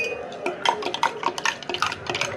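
A spoon stirs curd in a bowl to turn it quickly sour, scraping and clinking in a steady, close run of small strokes with no talk.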